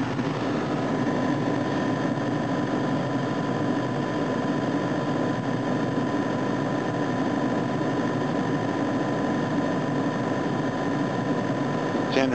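A generator running steadily under electrical load from plugged-in appliances, a constant close engine drone with an even hum, no change in pitch across the stretch.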